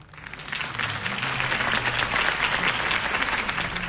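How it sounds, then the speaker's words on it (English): Steady applause from a large crowd in Batman: The Telltale Series, building quickly and holding at a full, even roar of clapping throughout. "could have heard that applause"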